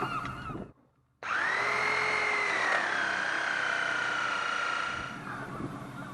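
A power drill bores holes through a piece of wood for ropes aboard a boat, a steady high whine running loud and close for several seconds after a brief pause, then easing off near the end.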